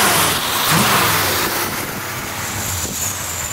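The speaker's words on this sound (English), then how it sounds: "it helps to get this thing running on an engine stand before you put it in the car" A Holley EFI-equipped engine for a 1971 Dodge Challenger runs on an engine stand, a loud steady close roar with a slight swell early on, heard alone without voices.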